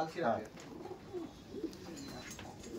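An Andhra Kalshira pigeon pair at a pigeon sale coos softly in a few low, rolling calls, close by, with faint voices in the background.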